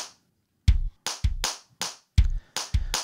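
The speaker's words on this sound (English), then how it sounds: "There's the clap." A clap drum sample played in a rhythmic pattern on the Gumdrops iPad drum app, six sharp, close, evenly spaced hits with low thuddy tails, alone without talk.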